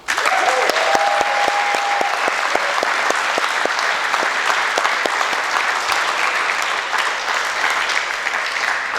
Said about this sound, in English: I hope that you will join me now in a round of applause and whatever else you would like to add for Alta